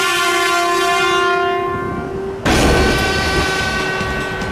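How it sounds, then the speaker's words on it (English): A loud, sustained train horn from a Sonic the Hedgehog video game, modelled on a Japanese Shinkansen horn, sounds as a steady chord, then shifts abruptly into a harsher, noisier blast partway through. "The horn sounds like those used on Japanese Shinkansen trains."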